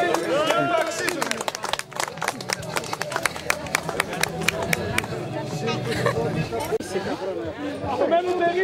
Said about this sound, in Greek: Θα ήθελα να χειροκρότημα παρακαλώ πολύ